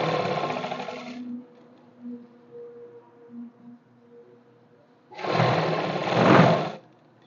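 Sewing machine stitching the finishing seam on the front of trousers, two short bursts of rapid mechanical whirring and clatter separated by a quiet pause with faint low hums, fairly close and alone.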